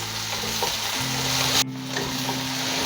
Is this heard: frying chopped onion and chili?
yes